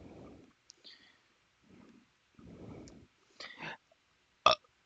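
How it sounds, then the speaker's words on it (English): One person lets out a short, low, guttural burp close to the mic, among a few other quiet, scattered mouth and handling sounds. "Excuse me, that was a burp."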